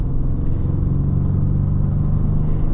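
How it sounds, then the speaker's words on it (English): An armored Lincoln Navigator with an EcoBoost engine drives along, giving a steady, loud low engine and road drone heard from inside the cabin, with no talk. "This EcoBoost has no problem moving the vehicle though with the armoring and everything."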